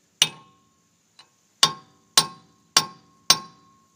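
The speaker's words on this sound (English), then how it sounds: "I figure you start chiseling that, you'll weaken some stuff, and then you can hammer from there." Metal-on-metal hammer strikes on a chisel against a rusty brake rotor, loud and close, five ringing blows at a steady pace with a faint tap between the first two, no voices.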